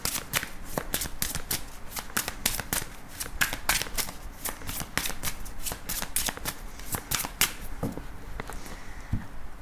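Tarot cards shuffled by hand, a continuous close flurry of crisp riffling slaps and snaps lasting several seconds with no talking.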